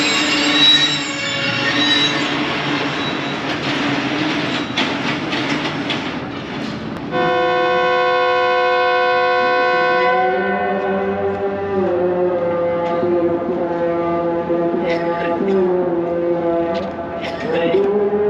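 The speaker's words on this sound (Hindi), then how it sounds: "GU 24567 लीड कर रहा है रावलपिंडी से लाहौर के दरमियान चलने वाली रेल कार को।" Locomotive GU 24567 leads a Rawalpindi–Lahore railcar at Gujar Khan Railway Station, with loud rolling rail clatter and then a long, sustained horn blast that carries on over the passing train.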